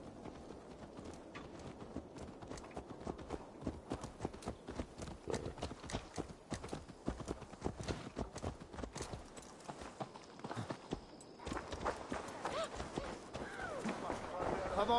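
Rapid, steady clip-clop of horse hooves trotting close by in the video game Assassin's Creed Valhalla, continuous and rhythmic throughout, with a brief lull before the pace picks up again.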